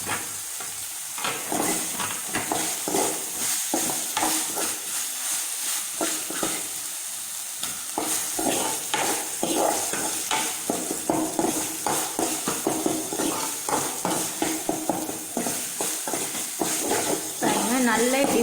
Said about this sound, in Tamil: இப்படி பெரட்டி விட்டுட்டே இருக்கணும்.